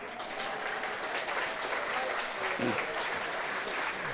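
Applause from an audience at a library authors' event with a keynote speaker, a steady broadband wash of clapping held at even level throughout with faint voices mixed in.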